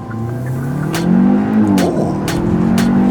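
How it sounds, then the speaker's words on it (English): A 2021 Hyundai Elantra N-Line's engine pulls hard under acceleration, a loud close droning growl that climbs in pitch, dips briefly at a shift, then rises again, heard from inside the car. "Maybe not the most pleasant sounding motor under acceleration"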